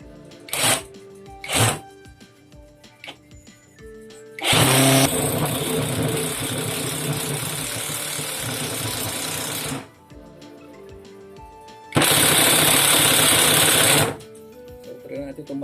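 OKS impact driver at maximum torque, two short blips followed by a long loud whirring hammering burst and then another shorter burst, close, with brief clicks between.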